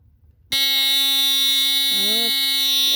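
A GE Home Sentry model 8201 301 smoke alarm sounds its test signal, a loud, steady, piercing tone starting abruptly after half a second of quiet and holding unbroken, with a brief voice-like warble over it midway.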